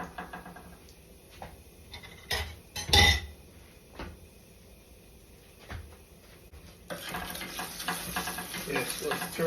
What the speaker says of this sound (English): stir that curry and let it burn a little